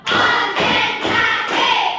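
A class claps together in unison in four quick bursts of sharp, loud thuds, with brief pauses between them as pupils count along.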